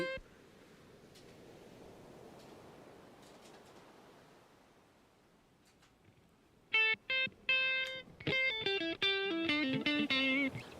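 Electric guitar playing notes of a minor pentatonic scale, starting from a quiet stretch of hiss and faint strums, then a run of clear, separate picked notes growing louder toward the end.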